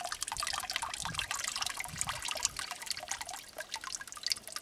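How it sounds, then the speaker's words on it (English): Water draining out through a filter bed on a mine tailings pad, a steady trickling and dripping wash with scattered small plops, fairly close and alone without talk. "it's definitely internally draining there"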